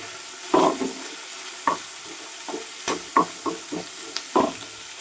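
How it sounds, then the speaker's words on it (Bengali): Onions being stirred and fried with a spatula in a pan, heard as a string of irregular scraping strokes, close and fairly loud, over a faint sizzle with no talking. "আর এই পেঁয়াজটা একটু খুন্তি দিয়ে ভালোভাবে নেড়ে নেব। এইভাবে পেঁয়াজটাকে আমি ভালো করে ভেজে নেব।"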